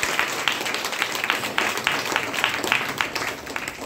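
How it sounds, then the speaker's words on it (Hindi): A seated audience at a health-products talk gives a quick round of applause, with brisk, fairly even claps at moderate loudness over a few seconds before fading. "एक बार आप सबके लिए जोरदार ताली।"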